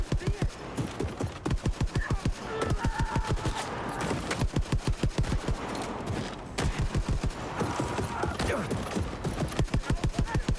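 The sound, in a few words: gunfire shooting Nazis in video game Wolfenstein II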